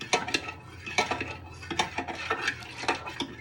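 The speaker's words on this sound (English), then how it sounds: "Just stir it for a minute or 2" Minestrone soup stirred in a pot with a spoon: quick, rhythmic clinks and scrapes of metal against the pot, close and steady throughout.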